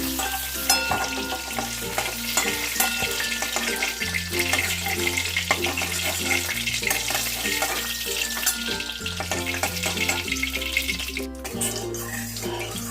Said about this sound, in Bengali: এরকম করেই আমি সব ফুলকপিগুলোকে ভেজে নেব